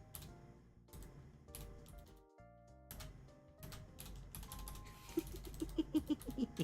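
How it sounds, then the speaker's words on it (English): Keys clatter in short bursts on a keyboard while a translator works through a game script, with quiet gaps between runs and sharper, louder clicks near the end. "Why am I typing it out?"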